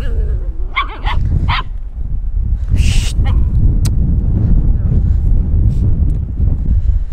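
A stray dog at a garbage dump barks a few times early on, then wind roars steadily against the microphone for the rest, with voices faintly mixed in.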